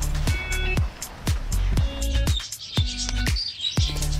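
Bright canary chirps and tweets scattered through the clip over repeated low knocking thumps, the calls fairly close and lively.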